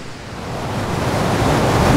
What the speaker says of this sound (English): And we are in Unawatuna beach.